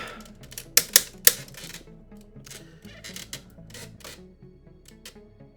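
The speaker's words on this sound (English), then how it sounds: "Now we're going to extend these. That's going out twice. Fold up everything on the way." Plastic parts of a transforming Brontosolid (Sludge) robot-dinosaur toy being folded and extended, giving a run of sharp, close clicks and snaps, a few louder ones early, over a faint musical background.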